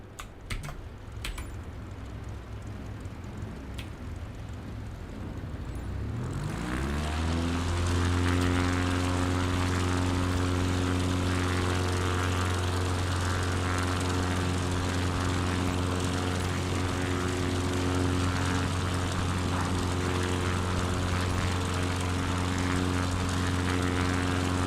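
In Microsoft Flight Simulator, an airplane's engine spools up from a rising whine into a loud, steady propeller drone for takeoff, following a few seconds of computer keyboard typing.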